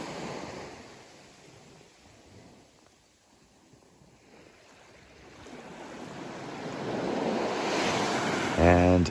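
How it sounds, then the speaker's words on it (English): Ocean waves roll onto a sea glass beach shoreline in the morning, a soft wash that fades into a quiet lull and then builds into a louder surge, with wind buffeting the microphone near the end. "loving the sound of those waves rolling in on the shoreline here today"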